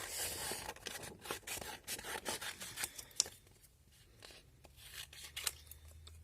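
Scissors snip through paper to cut out Christmas decorations for a string of fairy lights, a quick run of close, soft cutting and rustling sounds with no talking.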